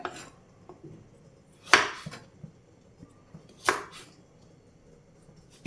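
A knife chopping vegetables on a board for a boiled egg salad, with a few sharp, isolated cuts spaced about two seconds apart, close and clear against a quiet background.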